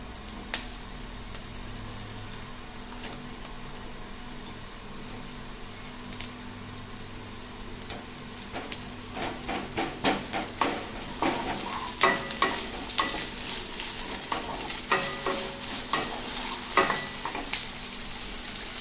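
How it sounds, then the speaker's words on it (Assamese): Potatoes and onions frying in a pan for a sewali flower dish, a steady sizzle that gives way to repeated scraping stirs, growing busier and louder in the second half, close and with no talking. "পিঁয়াজখিনি অলপ ফ্ৰাই হোৱাৰ পিছত এতিয়া ইয়াত কাটি থোৱা আলুখিনি দি দিম।"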